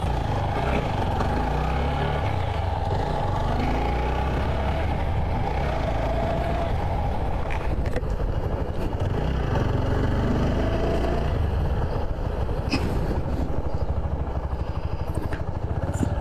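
A second-hand 2022 TVS Apache RTR 4V ABS motorcycle runs steadily at close range after starting, a loud continuous engine drone that barely changes, with a few sharp clicks near the end.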